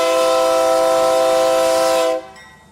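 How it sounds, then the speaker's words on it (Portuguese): A freight train horn on a Brazilian rail freight line sounds one long, loud, steady chord of several tones, then cuts off abruptly near the end, leaving faint rail noise. "A buzina, ouvida de longe, atrai olhares curiosos e cheios de entusiasmo."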